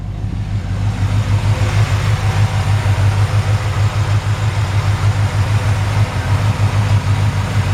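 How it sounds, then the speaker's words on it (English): A 1957 Chevy 3100 pickup engine idles steadily, a loud, even low rumble with a faint regular pulse close by, running alone without talk. "nice, healthy, strong engine."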